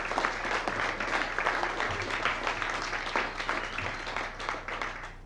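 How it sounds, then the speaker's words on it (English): A room full of people applauding at a talk on blockchain, sustained even clapping at moderate loudness for several seconds, with faint murmuring beneath. "I'd encourage everyone, sort of round of applause to Johannes and his effort."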